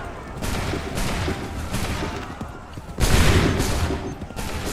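Musket volleys crack out in an 18th-century battle in the game Assassin's Creed 3 Remastered, loud rolling fusillades with a heavier burst about two-thirds of the way through.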